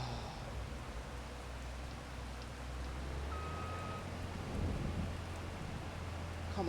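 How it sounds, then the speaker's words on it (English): Rain hisses steadily with a low rumble of thunder in the Farming Simulator 25 game world, fairly quiet and without voices. "Oh, it's thundering as well now."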